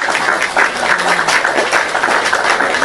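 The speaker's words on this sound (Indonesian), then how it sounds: "Kita kasih tepuk tangan Diono ya" Dense, steady applause from an audience greeting a guest named Diono on a live online show, continuous and loud throughout with no distinct individual claps.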